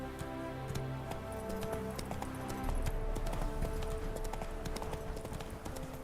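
Roach the horse in The Witcher 3 trots along with steady, rhythmic clip-clopping hooves, close and continuous over a layer of ambient game music and background tones.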